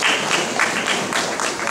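An audience at a sarod concert claps for a guest, a dense, steady burst of applause lasting under two seconds, fairly loud and close throughout.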